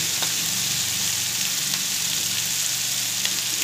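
Chicken offal and luffa gourd sizzle steadily in a hot pan while being stir-fried, a constant close crackling hiss with faint stirring scrapes and no talking.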